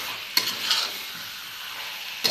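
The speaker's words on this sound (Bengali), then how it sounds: "এখন নেড়ে ছেড়ে দেওয়া হচ্ছে ভালো করে" Chicken curry frying in a pan, with a sizzle running throughout and two quick spatula scrapes at the start and end, close by with no talking.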